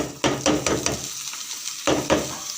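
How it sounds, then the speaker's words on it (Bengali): Onion frying in a little oil, with a soft sizzle broken by several scraping stirs of a spatula against the pan in uneven bursts. "হালকা তেলে অল্প করে তেল দিছি দিয়ে পেঁয়াজটাকে সুন্দর করে ভেজে নিলাম"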